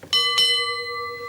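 A panelist's bell rings on the QI quiz show, two quick, bright strikes close together that ring on with a clear, slowly fading tone, with no speech.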